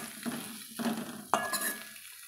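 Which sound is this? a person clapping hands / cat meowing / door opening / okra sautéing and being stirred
okra sautéing and being stirred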